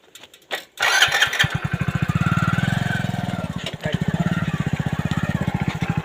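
A tractor engine on a farm road near Wadhwan, Gujarat, cranks up and settles into a loud, close, rapid rhythmic chugging that stays steady, with a short dip partway through.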